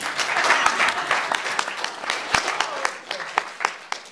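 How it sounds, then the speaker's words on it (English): Audience at a live talk claps in a dense, sustained burst of applause with sharp individual claps standing out, thinning toward the end, fairly close and loud with no talk over it. "Let's clap for me."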